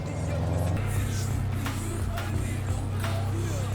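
A car driving in the video game Cyberpunk 2077, a steady low engine drone running continuously throughout with faint background noise and no clear revving peaks.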